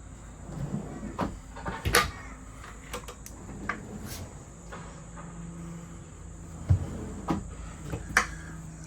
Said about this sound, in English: And obviously soft close, nice big drawers, plenty of space.